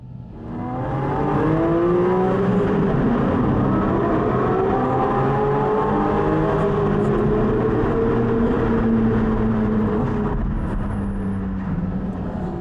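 A Porsche GT4 RS engine with its sports exhaust switched on roars with a deep, rising exhaust note, revving and accelerating steadily as it pulls away, loud and close.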